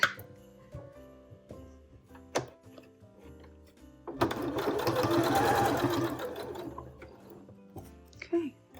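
Sewing machine stitching fabric for a holiday mug rug: a steady whirring run of a few seconds in the middle, close and fairly loud, framed by faint handling clicks and knocks, with no speech.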